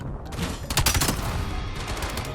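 Gunfire in the video game Call of Duty: Black Ops 7 multiplayer, set in a futuristic 2035 battle: a close, loud burst of several sharp rapid shots over a continuous rumbling game background.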